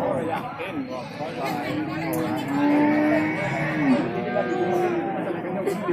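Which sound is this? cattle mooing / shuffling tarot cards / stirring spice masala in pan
cattle mooing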